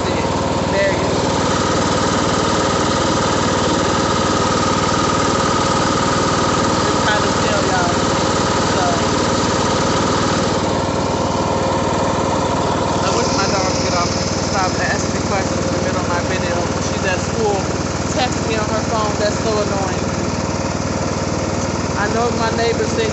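A riding lawn mower engine drones loudly and steadily while being driven down a hill to a bus stop, with a person talking over the constant mechanical hum.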